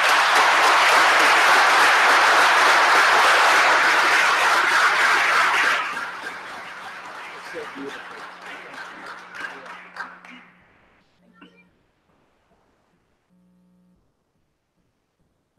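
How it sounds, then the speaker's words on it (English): Audience applause at a township committee meeting: dense, loud clapping for about six seconds that thins into scattered claps and fades out, with a faint hum remaining. "I'd just like to give a round of applause for everything you do for us."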